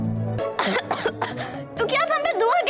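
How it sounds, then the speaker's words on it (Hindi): A woman coughs repeatedly in short harsh bursts, with a throat-clearing quality and brief voiced sounds between them, close and loud. "अच्छा तो देखिए कैसे खांस रही हैं"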